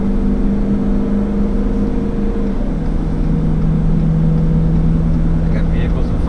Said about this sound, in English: So I just right now put my foot to the floor, and I mean, we're climbing speed pretty quick here.